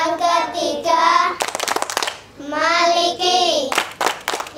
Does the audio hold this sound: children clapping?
yes